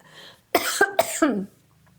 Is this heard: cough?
yes